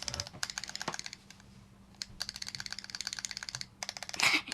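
Rapid clacking keystrokes on a custom-built mechanical keyboard, fairly soft and close, typed in quick bursts with a brief pause in between and a slightly louder clack at the end.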